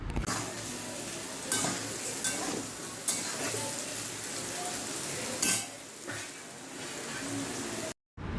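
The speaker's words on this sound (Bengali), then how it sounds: "এদিকে আলু ভাজাটা প্রায় হয়ে এসেছে" Potatoes sizzle steadily in a pan, with occasional scraping stir sounds and light clinks close by.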